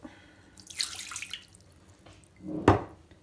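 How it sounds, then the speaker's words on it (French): Water from a tap runs into a Thermomix bowl in a home kitchen: a splashy pour early on, a quieter trickle, then a louder gush near the end, close by with no talking. "on va mettre l'eau"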